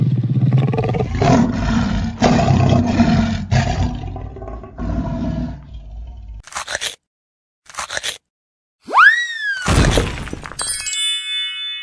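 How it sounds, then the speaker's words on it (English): A cartoon lion gives a deep, loud roar lasting several seconds in throaty pulses. It is followed by short crunching bursts, a rising chime-like effect and ringing tones, with brief silences between them. "lion,"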